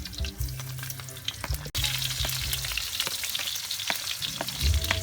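Garlic, onion and meat frying in oil for adobong sitaw, a loud continuous sizzle close up with a brief clatter of stirring partway through.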